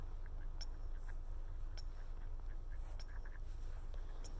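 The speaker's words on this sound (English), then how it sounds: "I can hear ducks making noises over there." Ducks quack now and then from a distance at night beside a seawall in still, windless air, with short bursts scattered over a steady low background hum.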